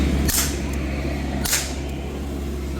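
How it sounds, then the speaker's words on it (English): Two sharp, loud gunshots fired into the air about a second apart on the Disneyland Jungle Cruise ride, each cracking out over a constant outdoor background hum. "I'm going to have to fire some shots over the head to try and scare them."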